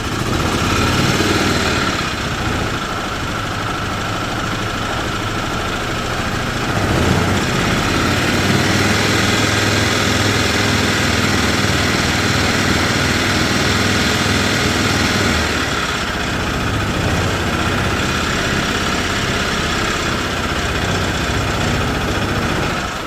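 A 2010 Yamaha Drive G29 golf cart engine, in need of clutch, belts and carburetor cleaning, runs loud and steady throughout with a constant droning roar and slight surges, no voices.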